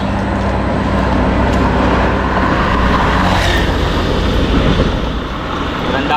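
Steady, loud road traffic on a busy street in Roxas, Palawan, with cars and other vehicles rolling past one after another in a continuous rumbling wash that never lets up.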